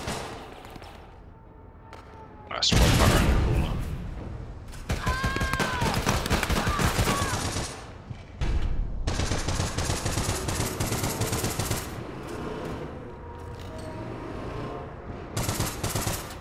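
Bursts of automatic gunfire and explosive blasts from the online shooter game APB Reloaded, loud and rapid, with a heavy boom near the start and repeated firing volleys throughout.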